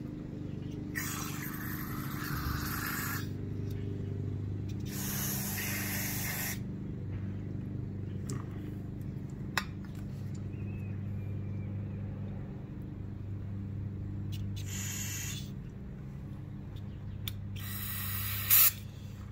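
Carburetor cleaner sprayed into a dirt bike carburetor comes as four short, sharp hissing bursts, separated by pauses, over a steady low background hum.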